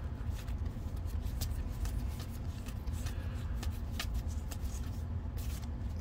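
Era 1 cards from the Underwater Cities board game are handled and flipped through, producing quick papery flicks and snaps close up over a low, steady background hum.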